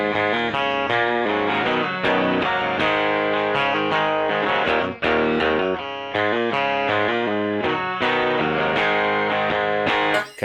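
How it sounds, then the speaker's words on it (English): Electric guitar through a Boss Pitchfork pedal set to octave up, blended low, with bright, ringing, chiming notes and chords played steadily in a loud, close phrase, with brief pauses between strums. "Okay, and that's the octave up sound."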